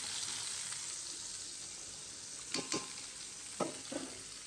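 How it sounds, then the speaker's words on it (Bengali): Potatoes frying in oil for a meat curry give a steady, hissing sizzle throughout, fairly quiet, punctuated by a few brief spoon taps and scrapes near the end, with no voices. "আর এদিকে যে এত আওয়াজ হচ্ছে, এটা হচ্ছে আলু। মাংসর জন্য আলুটা ভেজে নিচ্ছি।"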